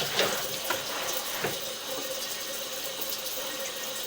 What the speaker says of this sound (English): Should have that water running the entire time until we get pretty much back to the stack that we've entered.